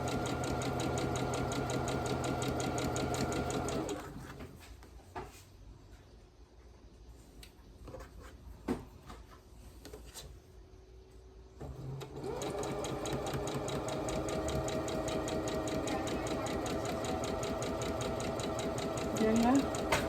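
Sewing machine stitching a gnome quilt block runs in a fast steady whir, stops for several seconds amid quiet handling noises, then starts again and runs continuously, close and moderately loud.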